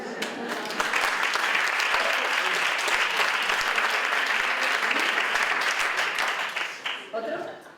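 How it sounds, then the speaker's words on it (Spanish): An audience bursts into a sustained round of applause, dense and fairly even clapping heard from within the room, tapering off in the last second with a voice emerging. "Ya está, un aplauso."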